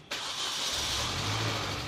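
A 2005 MINI Cooper S John Cooper Works, fitted with an unrestricted exhaust with chrome tips and an upgraded intercooler and airbox, cranks and fires after a short silence, then settles into a steady, loud, close idle.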